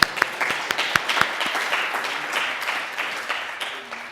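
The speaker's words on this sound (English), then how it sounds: "So one more round of applause." Audience applause at a cardiovascular research day, starting with a few sharp separate claps and swelling into steady, dense clapping from a room full of people.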